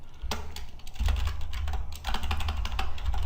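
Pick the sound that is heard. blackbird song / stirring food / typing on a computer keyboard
typing on a computer keyboard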